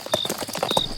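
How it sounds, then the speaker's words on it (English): Horses pulling a carriage in an audio drama, a quick run of hard clip-clop hoofbeats in uneven rhythm, close and fairly loud, with a high whistling tone over them. "And the horses, neighing in pain, rushed forward, pulling the carriage behind them."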